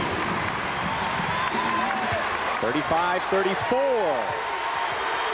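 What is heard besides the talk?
basketball arena crowd cheering and applauding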